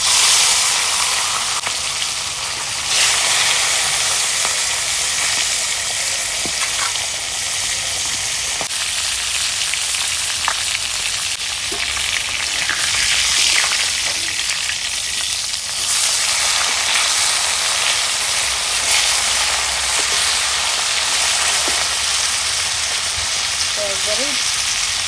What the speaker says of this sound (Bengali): আমার তেলটা গরম হয়ে গেছে, আমি এখন মাছ দিয়ে দেবো